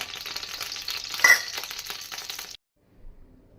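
Refined oil with cumin seeds sizzling in a pan, a bright continuous hiss up close with a brief clink, cutting off abruptly into near silence after about two and a half seconds.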